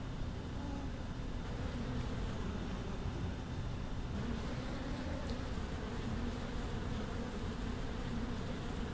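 A swarm of bees buzzes continuously in the Bee Movie Game video game, a dense, steady drone that stays loud and close throughout without pause.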